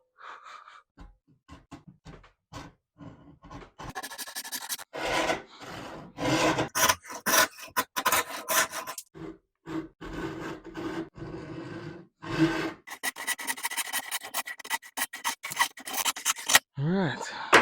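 A hand saw cuts through olive wood in bursts of rasping back-and-forth strokes, some quick and rhythmic, others irregular with pauses, close and fairly loud, with occasional knocks and breathing.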